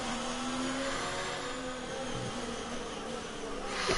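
A Formula 1 car revs its engine for a practice start in the F1 2019 video game at the Hungarian Grand Prix, making a steady, buzzing high whine that is fairly quiet and continuous, with no speech.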